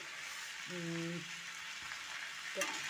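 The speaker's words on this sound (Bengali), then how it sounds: "এবার এটাকে একটু কষাতে হবে, কষাতে কষাতে আশা করছি ফুলকপিগুলো সব কালার হয়ে যাবে নাকি।" Spiced cauliflower being stir-fried in a pan: a soft, steady sizzle with faint scraping as it is stirred, quiet and close, with a brief tonal hum in the middle and a light clink near the end.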